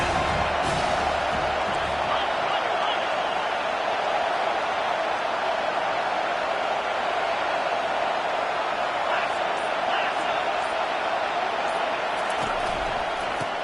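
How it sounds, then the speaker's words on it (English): A stadium crowd at a football game roars for the home defense, a continuous loud wall of cheering and noise that holds steady throughout with no clear break. "This crowd knows this defense needs them right now."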